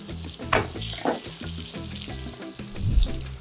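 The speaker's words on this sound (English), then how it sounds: "we're gonna add some fresh garlic" Fresh garlic sizzling in a hot pan alongside a ribeye steak, a steady crackling fry with occasional louder pops and spatters, close and without talking.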